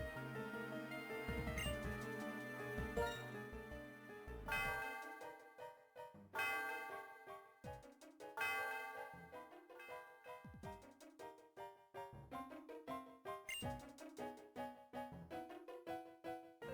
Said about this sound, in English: I shall ring the bell.